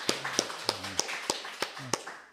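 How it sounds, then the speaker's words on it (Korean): A church congregation at a Sunday morning service claps in welcome for visiting missionaries, sounding as a few sharp, separate claps spaced through two seconds under faint murmuring voices, near and fairly soft. "우리 환영의 박수 한번 부탁드리겠습니다."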